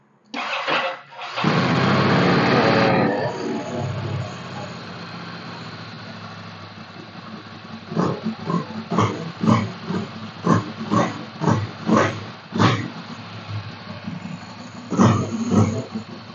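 A Ducati Monster 795 motorcycle, parked for ten years with low mileage, cranks and fires with a sharp roar, then settles into a quiet, loping idle of rhythmic exhaust pulses, heard close.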